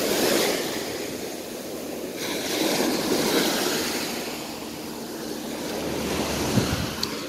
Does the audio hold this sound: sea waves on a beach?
yes